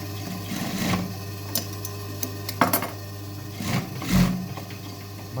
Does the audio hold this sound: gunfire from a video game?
no